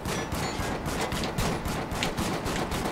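Pistol gunfire from the Killzone Shadow Fall multiplayer Warzone mode on the Station map cracks in rapid, tightly packed bursts, loud and continuous, mixed with other shots and game noise.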